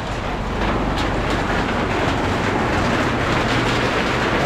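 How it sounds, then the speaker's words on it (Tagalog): Heavy afternoon rain pours behind a rural house over the back garden, making a dense, steady, loud roar throughout. "lakas na naman ng ulan guys"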